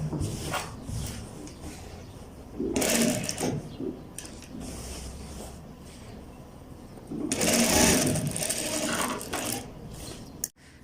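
A sewing machine stitches a leg seam on men's pajamas in short, rapid bursts of whirring and clattering, separated by quieter pauses.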